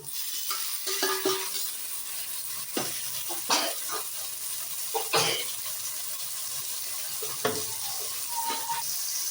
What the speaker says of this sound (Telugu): ఉల్లిపాయ పచ్చిమిర్చి వేగిన తర్వాత టమాటా వేసుకోవాలి